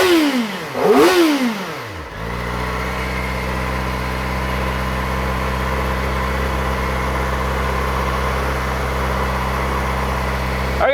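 A stock Kawasaki ZX4RR motorcycle blips its throttle in two quick, sharp revs, then settles into a steady, close idle with a smooth, high-pitched hum.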